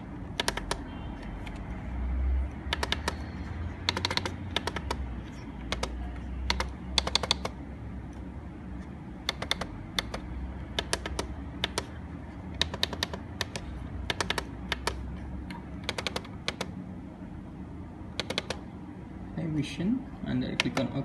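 Computer keyboard typing while entering a company name into attendance configuration software, bursts of quick clicking keystrokes separated by pauses, fairly close, over a low steady background hum.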